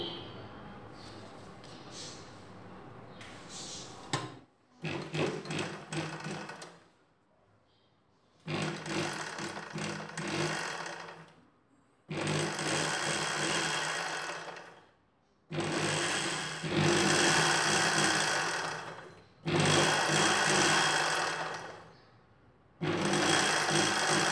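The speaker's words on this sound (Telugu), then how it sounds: "ఈ అంచుల్ని మడిచి ఇలా కుట్టు వేసుకోవాలి." A sewing machine stitching folded fabric edges for sleeves, running in loud, close bursts of several seconds each, separated by brief quiet pauses, with no one talking.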